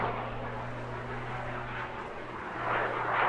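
A fixed-wing display aircraft passes at the English Riviera Airshow, its steady engine drone holding at moderate distance with a low tonal hum and swelling slightly louder toward the end.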